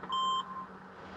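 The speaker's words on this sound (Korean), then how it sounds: "2단 삐 소리 나면 다시 중립이요" A driving-test system beep sounds once the gear lever is shifted into second during a Class 1 ordinary license skills check: one loud, steady electronic tone followed by a shorter, fainter tone over a low vehicle engine hum.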